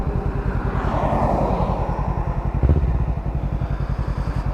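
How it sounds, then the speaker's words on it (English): A 2014 Kawasaki Ninja 300 ABS small parallel twin with an aftermarket exhaust, running nearby with a loud, rapid pulsing putter that swells briefly, then settles into an even beat. "This is a small parallel twin with an aftermarket exhaust"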